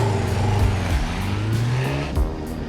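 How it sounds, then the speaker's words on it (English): A motorcycle in Top Gun revving hard, its engine rising and falling in repeated throttle blips, loud and close, with no voices over it. "He gets on his motorcycle and does this thing where he's like, I can't hear what you're saying, while he's revving it up."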